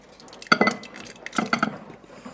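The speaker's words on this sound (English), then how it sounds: "Careful with the splashes." Liquid splashes and sizzles in a pan while butter chicken cooks with ghee, coming in two short bursts of crackling spatter close by, with no talking.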